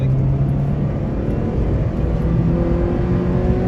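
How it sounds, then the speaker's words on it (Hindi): Steady, loud engine drone of a 2015 Maruti Swift heard from inside the cabin while pulling hard in second gear, a continuous low hum with road rumble and no talking. "रोड पे ले जाके दिखाता हूँ अंदर से गाड़ी की नॉइस"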